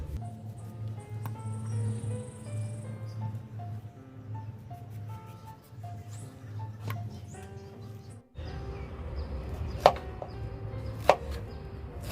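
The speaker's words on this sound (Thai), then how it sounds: "หั่นธรรมดาเลยค่ะ" A knife cuts through a pineapple in a series of crisp taps and thuds on a board, with soft music playing in the background.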